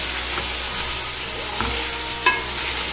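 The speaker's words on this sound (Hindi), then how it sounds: "अच्छा, ये हमारा नमक में हल्दी भून चुका है।" Turmeric roasting in salt in a pot for Delhi nihari gives a steady, loud frying hiss with faint stirring scrapes and a small clatter near the end, no voices.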